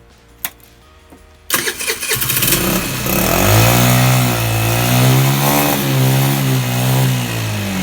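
A 50cc four-stroke scooter engine fires up after a brief click, then revs hard and rises in pitch through repeated throttle blips, loud and close with no talk.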